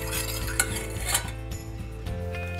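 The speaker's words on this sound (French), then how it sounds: "Je mélange." Char siu sauce of sugar, oyster sauce, dark soy sauce and water being stirred in a saucepan, a utensil scraping and clinking against the pan in steady strokes over a constant low hum, close and fairly quiet.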